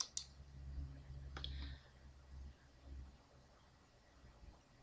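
A computer mouse clicks twice, sharp and close, against faint background hiss and low hum in a quiet room.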